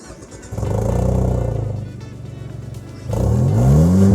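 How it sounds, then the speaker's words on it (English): A Mazda 3 Fastback 2.0L SKYACTIV-G engine revs through an Autoexe aftermarket exhaust, close and loud, rising to a throaty drone, dipping, then surging again in a second rev. "And one of the most fun parts, we also have the Autoexe exhaust."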